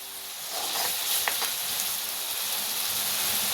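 Masala with turmeric sizzles steadily in hot oil for a Konkani-style fish thali, a continuous close frying hiss with a few faint clinks and no talk.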